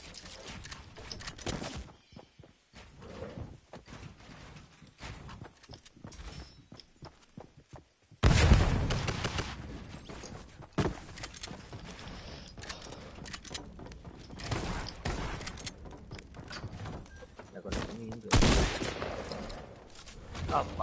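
Gunfire in the video game Fortnite, Zone Wars mode: bursts of shots and rapid volleys come in uneven clusters, louder after a quieter opening, with footstep-like clatter and a voice talking at times.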